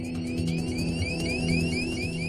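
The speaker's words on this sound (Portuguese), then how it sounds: "Esse é o aviso de altitude da cabine" A repeating aircraft cabin altitude warning tone, rising chirps cycling steadily over a constant low hum of cockpit noise.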